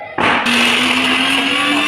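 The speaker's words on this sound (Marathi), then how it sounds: "हे सगळं मिक्सरला लावून वाटून घ्यायचं" A mixer grinder starts up abruptly and runs loud and steady, grinding a pigeon pea lentil paste with coriander, its motor whine holding a constant pitch with a coarse grinding roar, no voices.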